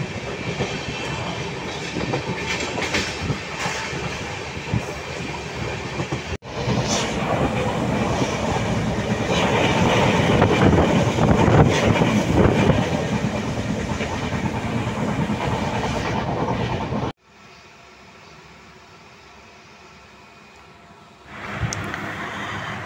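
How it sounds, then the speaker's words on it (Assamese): A train rushes past with a loud, continuous rumble and rattling wheels, cutting abruptly to a quieter hum before the noise rises again. "ট্ৰেইনখন ইমান স্পীডত গৈছে, বাপৰে বাপ"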